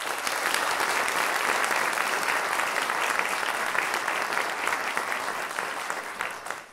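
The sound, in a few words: audience applause at a school Christmas concert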